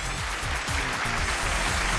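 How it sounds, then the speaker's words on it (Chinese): Studio audience applause at a televised relationship-mediation show, a steady dense clatter of many hands that holds for the whole stretch, with music playing underneath. "掌声有请这一对"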